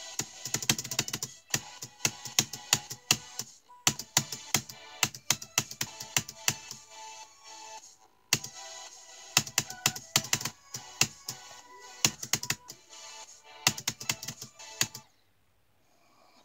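Rapid clicking on a laptop keyboard during a Geometry Dash session, close and crisp, in irregular bursts of quick taps with brief pauses between clusters, stopping near the end.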